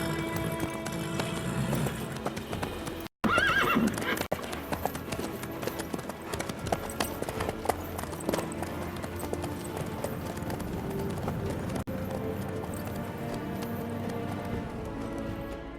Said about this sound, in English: How's your horse? Swift? Can't complain.